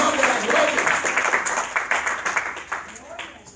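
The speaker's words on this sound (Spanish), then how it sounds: "Aplauda al Señor de la gloria." A church congregation claps together to praise the Lord, with dense, steady applause running throughout. Voices murmur and call out beneath the clapping.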